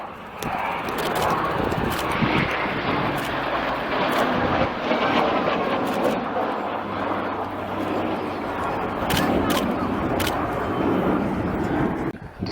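Eurofighter Typhoon jet in a flying display at an RAF Cosford airshow, a continuous broad roar of engine noise with crowd murmur and announcer speech mixed in.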